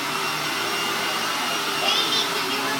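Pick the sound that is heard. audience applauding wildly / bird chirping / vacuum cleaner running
vacuum cleaner running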